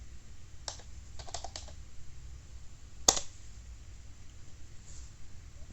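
A few quiet computer keyboard keystrokes come in a short cluster as a command is typed on a Linux terminal, then one sharper key press follows, faint and with no talk.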